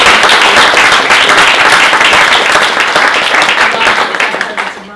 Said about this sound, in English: Can we just have a round of applause for our panel?